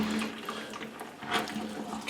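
Water gurgles and drains steadily from a sink after a plush toy has been washed, a continuous close splashing wash with no talking.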